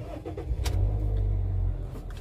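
A 2013 Toyota Yaris E automatic is started, with a brief crank click followed by a low, steady engine rumble settling into idle, heard close up with no talking.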